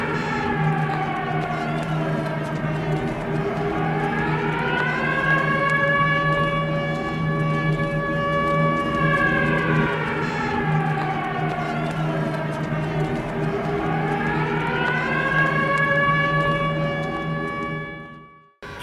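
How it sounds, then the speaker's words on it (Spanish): An air raid siren wails over Úbeda while fighter planes fly low over the rooftops, rising and falling in two long, loud sweeping cycles above a steady low drone, with no voices, before cutting off at the end. "Y la sirena tocando, y la gente corriendo"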